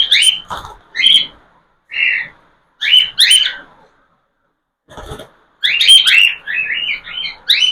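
Several cockatiels chirp and whistle up close in short, bright bursts separated by brief pauses, then break into a denser run of overlapping calls near the end, with no voices.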